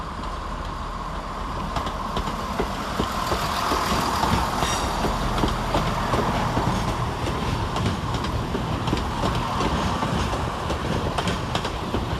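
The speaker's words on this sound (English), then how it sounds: "Arriving to terminate with a Chiltern Railway service off Birmingham Moor Street is 168216." A Chiltern Railways Class 168 diesel unit, 168216, arriving to terminate at London Marylebone from Birmingham Moor Street, its engine rumble and wheels clacking steadily and close by as it rolls in.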